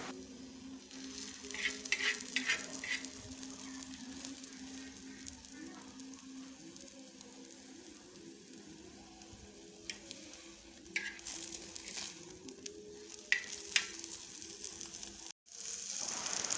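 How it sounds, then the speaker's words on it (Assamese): An omelette fries in a pan with a soft, steady sizzle close by, joined by occasional scraping and clinking of a utensil stirring or turning it. "এয়া আমলেট বনালোঁ ভাত খাবৰ কাৰণে। আমলেট বনাই আছোঁ।"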